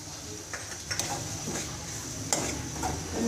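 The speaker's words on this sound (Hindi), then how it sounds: "तो मैं इसे अच्छी तरह से भूनूंगी।" Masala brain sautéed with garam masala and green chilli in a pan: a soft sizzle under faint stirring scrapes and a few light clinks of the spoon against the pot.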